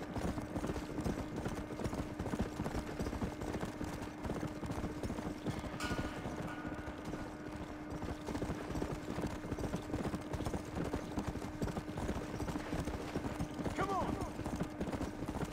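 Horse hooves clip-clopping steadily through a Red Dead Redemption: Undead Nightmare video game ride, a continuous rhythmic gallop at moderate loudness with a faint whinny near the end.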